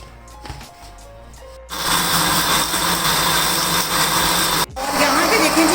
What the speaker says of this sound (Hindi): इसको भी तकरीबन 2 मिनट के लिए अच्छी तरह इसके साथ ग्राइंड कर लेना है